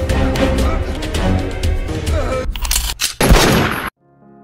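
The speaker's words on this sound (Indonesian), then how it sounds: "Rustam yang berhasil menembak terlebih dahulu" Gunfire in a dramatic film scene about an Indian naval officer: rapid, loud sharp bursts mixed with music and effects, then a few isolated booms before an abrupt cut to near silence.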